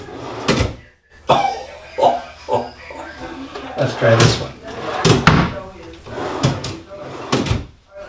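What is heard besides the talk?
ball bearing drawer slide drawer closing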